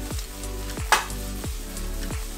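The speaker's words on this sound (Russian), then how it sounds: "Сковородку на плиту. Подливаем масло. И сначала обжариваем лук." Onion frying in oil in a pan gives a steady, close sizzle with soft crackles and one brief louder clink, with no talking.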